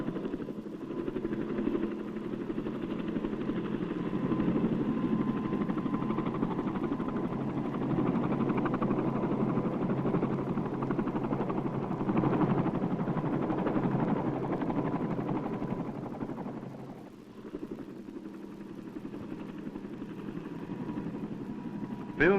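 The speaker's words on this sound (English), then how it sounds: "The copter passes so low that the tops of the plants literally brush the vehicle as the giant propeller" Low-flying crop-spraying helicopter passing just above the plant tops of a field in 1960s El Salvador, a steady loud rotor and engine drone holding throughout with a slight dip near the end.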